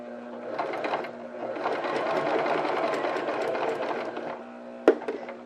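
A sewing machine stitches fabric in steady bursts of close, rhythmic whirring, pausing briefly between runs, followed by a sharp click as it stops.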